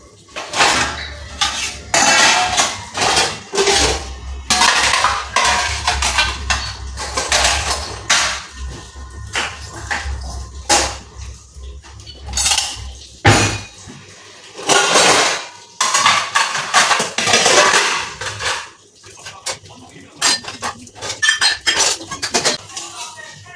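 Metal kitchen vessels are pulled out of a home kitchen trolley cabinet and set aside for making bhakri and heating milk. Repeated close clanks, clinks and scrapes of handled pots and utensils, with a low hum early on and little talk.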